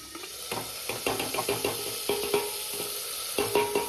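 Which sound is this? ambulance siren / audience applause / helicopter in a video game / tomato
tomato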